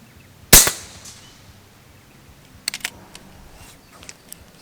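A single sharp crack from an FX Impact air rifle fired at a playing card 70 metres away, loud and close with a short decay. A few faint ticks and clicks follow.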